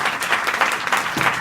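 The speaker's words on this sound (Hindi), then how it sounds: "इनके लिए ताली बजाओ।" Applause in a school hall during an adolescent education program, a short burst of many hands clapping loudly and continuously.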